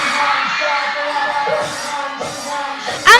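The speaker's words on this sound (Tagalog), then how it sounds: "Ang sarap marinig ng sigawan nyo" A crowd at the Mayohan grand parade in Tayabas shouts, whoops and cheers in a loud, sustained roar, with a sharp burst near the end.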